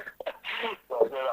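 A single short, sharp sneeze from someone at a lecture, close and brief, with people talking around it before and after.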